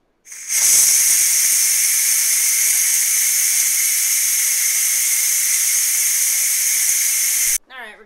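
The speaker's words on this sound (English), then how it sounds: "we're just gonna go ahead and do a quick release on this." A Ninja Foodi pressure cooker vents steam on quick release after cooking mac and cheese, a loud, steady, close hiss that bursts on abruptly and holds for about seven seconds before cutting off.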